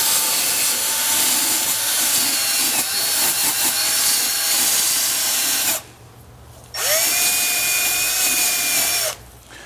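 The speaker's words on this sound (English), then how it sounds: "So you're just going to use the bristle disc." Power drill spinning a bristle disc to polish a Fiat Jolly 500 electric car battery terminal, a loud close whine in two bursts with a short pause between, pitch dipping as the bristles bite the metal.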